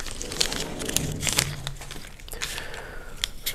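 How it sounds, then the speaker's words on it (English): Traxxas body shears slice open a plastic parts bag, with close crinkling and snipping of the plastic that carries on steadily for a few seconds with no talk. "Traxxas body shears, there we go."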